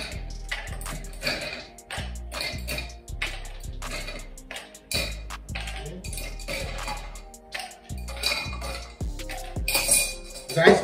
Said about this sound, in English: we're gonna fill our mixing glass with ice cubes